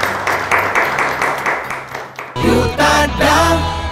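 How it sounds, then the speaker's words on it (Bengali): Loud clapping from a college audience at a quiz and game show, with a steady patter of many hands that swells into a denser, louder burst in the second half. "জোরে হাততালি"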